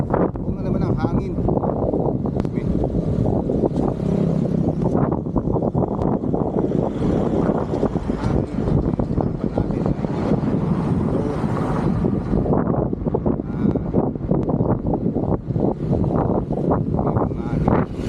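Strong wind buffets the microphone during a solo bike ride on the Mindoro loop, a loud, steady roar with low rumbling gusts that continues for the whole stretch, with a voice talking over it at times.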